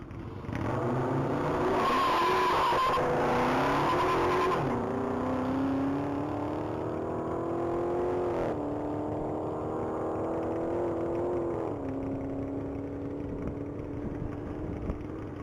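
A 2023 Dodge Hellcat wide body roars past at full throttle in a top speed mile race, its loud engine drone climbing and shifting pitch through several gear changes before fading as it runs on.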